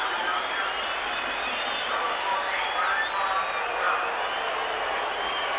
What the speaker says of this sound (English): Les Boyd once again getting a good round of applause from the Warrington fans